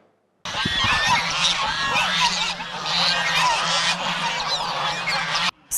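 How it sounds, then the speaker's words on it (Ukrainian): A huge flock of thousands of geese on a 20-hectare farm in a village near Lutsk honks in a dense, loud, overlapping chorus that starts abruptly and carries on continuously. "На 20 гектарах землі тисячі гусей."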